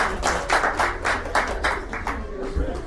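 A comedy show audience breaks into applause, a dense spread of clapping hands that holds steady for about three seconds.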